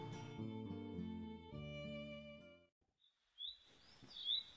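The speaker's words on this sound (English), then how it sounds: "The sounds of the birds chirping, the bright morning sun." Music plays for a few seconds, then fades into quiet where a few high, thin bird chirps ring out alone, close and bright, on a morning in Chisamba, Zambia.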